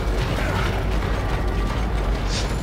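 Crafting crossbow bolts in the horror game The Evil Within, with a dense run of mechanical clicking and ratcheting over a steady low rumble, ending in a short metallic chime.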